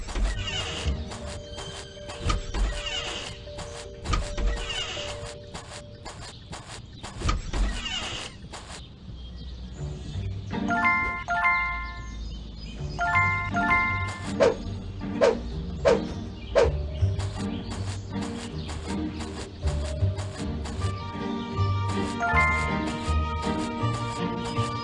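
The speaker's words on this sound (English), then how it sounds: "There goes that stupid bell again." A school bell in Scary Teacher 3D's Christmas chapter rings in a few short, bright tonal bursts partway through, mixed with steady game music and effects.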